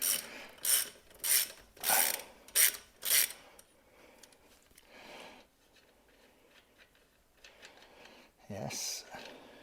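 A ratchet clicks in several quick, loud bursts close by as seized suspension nuts and bolts are undone on a Jaguar XKR, then falls quiet amid low rubbing and handling sounds.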